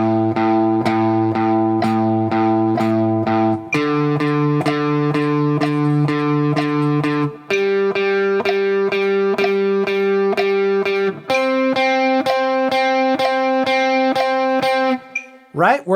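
Distorted electric guitar picks steady eighth notes, two picks per metronome click, repeating each note in an even rhythm before stepping to a new pitch about every four seconds, close and clear.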